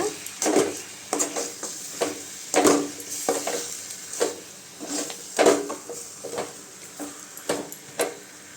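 Country chicken with rock salt stirred in a hot pan, a steady sizzle broken by repeated scraping stirs at an irregular rhythm, close and moderately loud with no talking.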